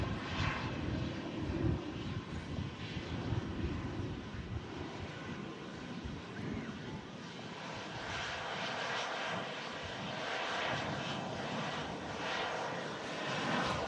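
A Royal Jordanian airliner on final approach gives a steady, broadband engine roar that holds evenly throughout, loud and fairly close, with no voices.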